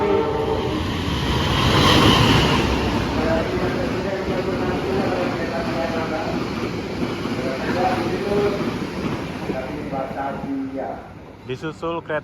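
A Batavia passenger train overtakes on an Indonesian railway, its rumble and wheel clatter swelling close by, then thinning out as it passes, with people talking over it.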